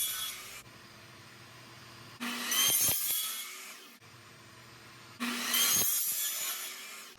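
Miter saw cutting 2-inch PVC pipe into 6-inch sections: two loud cutting bursts, each lasting about two seconds, with quieter motor whir between them, close up and with no talking.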